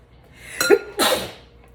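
A single close, loud sneeze: a quick sharp inhale followed by a bursting exhale, then quiet.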